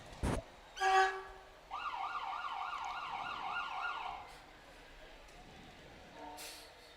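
An ambulance siren wails in a rapid, rising-and-falling yelp for a few seconds, fairly close, after brief horn blasts and clatter, as a Lifeguard Ambulance Service ambulance passes in the Harlan County Christmas parade.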